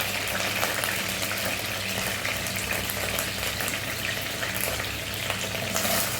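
Fresh curry leaves and chopped green chilies frying in hot oil, a steady dense crackling sizzle that continues evenly throughout.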